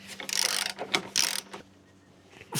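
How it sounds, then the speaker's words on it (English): Hand ratchet on the body mount screws of a Land Rover Discovery 4 SDV6, several bursts of close, quick clicking with short pauses between strokes, over a faint low hum. "we're gonna loosen the 10 body mount screws. And we're gonna do this by hand"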